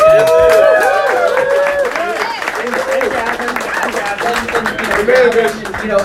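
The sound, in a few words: audience applause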